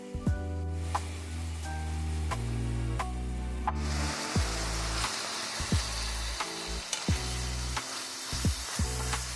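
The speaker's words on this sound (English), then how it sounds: "Now we're going to continue to cook our ground beef until it's brown all the way through" Ground beef browning in a pan, a continuous close sizzle broken by occasional sharp clicks and scrapes of stirring, with a sustained tonal background running underneath throughout.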